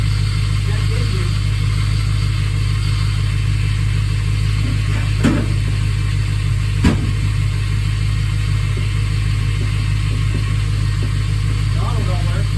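A Ford Crown Victoria engine swapped into a Ford F100 pickup runs at a steady idle close by, a low constant hum throughout, with a couple of sharp clicks or knocks and people talking around it.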